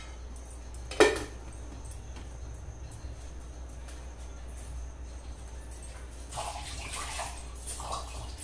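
Hot water is poured at home: a sharp clink comes early, then a quiet spell, then faint splashing and trickling near the end over a low background hum.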